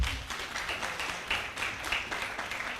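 Scattered, fairly faint clapping from an audience at an investor summit, a light patter of hands in a large room that keeps going without strong peaks.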